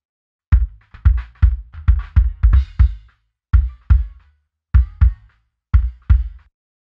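Heavily compressed drum kit with about 20 dB of gain reduction blended in parallel, punchy kick and snare hits in a steady groove of around a dozen strikes, each with a thick sustained low-end tail, loud and alone.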